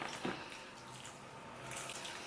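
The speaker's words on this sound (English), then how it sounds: "Just give it a water." Water poured from a watering can or tap into the pot of a newly bought cactus infested with scale, a soft steady splashing and trickle at close range with no voices.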